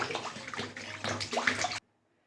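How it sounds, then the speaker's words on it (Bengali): Water poured into a karai (frying pan) just after cooking, a loud, close splashing gush lasting under two seconds before cutting off abruptly to silence. "কড়াইয়ের মধ্যে একটু জল দিয়ে দিলাম।"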